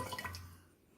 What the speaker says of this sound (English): we'll put a second amount of water in here just with the jug